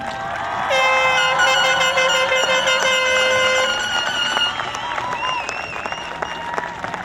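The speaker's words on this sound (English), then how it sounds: "Round of applause for our graduates." A large crowd applauds graduates at the Old Bridge High School 2020 graduation ceremony: sustained loud clapping with high cheers and whistles over it, easing slightly toward the end.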